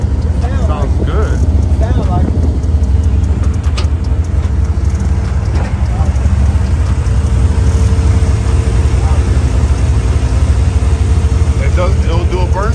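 An old car's engine idles steadily and loudly throughout, a constant low rumble with people talking over it.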